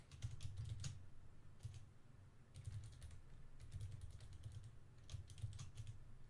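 Rapid bursts of typing on a computer keyboard, close and fairly quiet, in short clusters of keystrokes separated by brief pauses over a low hum, with no voices.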